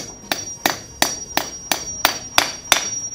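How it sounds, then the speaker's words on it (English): A hammer strikes a concrete anchor bolt eight times at a steady rhythm, each blow a sharp, ringing metallic clank with a short tail, close and clear, with no talk. "Then what you do is you just hit it with a hammer,"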